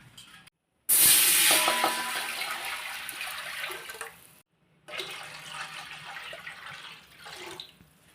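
Water gushes into a pot, two containerfuls measured for making wheat chik: a strong, hissing pour lasts a few seconds, stops briefly, then a second steady pour follows, close and loud.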